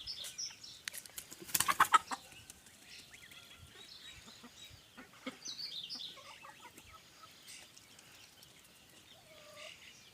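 Muscovy ducks and other farm poultry in a rural Ukrainian yard give intermittent quacks and calls, with a short burst of wing flapping early on, heard fairly close against a quiet background.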